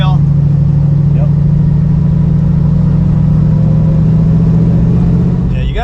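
A classic Ford Mustang with a 4-speed manual drives with a loud, steady engine drone and a strong low hum, the throttle feathered lightly. People talk over the engine.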